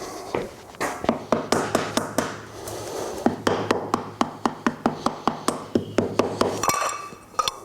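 Gentle tapping on the rocker cover of a classic Triumph Trident T160 motorcycle engine to break the seal: a long run of sharp, close metallic taps in a steady rhythm, pausing once briefly, with no talking.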